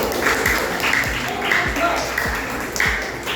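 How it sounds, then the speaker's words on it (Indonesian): Students clapping in a classroom during a computational thinking lesson, with a few loud, rhythmic claps that repeat at a steady beat over a busy background of chatter. "Tepuk tangan tuh baik."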